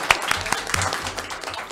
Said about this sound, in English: Well, let's clap for her.